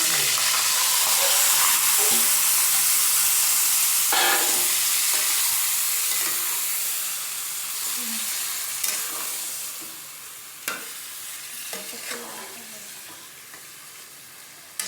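Marinated duck meat sizzles and fries loudly in a hot pan, with steady hissing and occasional stirring clatters that ease slightly toward the end.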